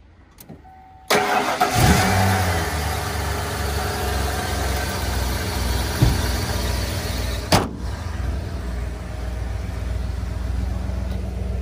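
A Hummer H2's engine cranks and catches, then settles into a steady, loud idle close by. A brief rev swell and a clunk follow, with no voices over the running engine.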